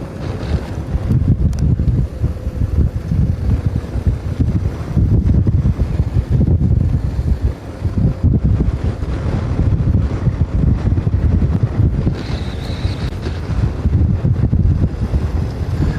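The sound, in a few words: crosswind blowing during bicycle race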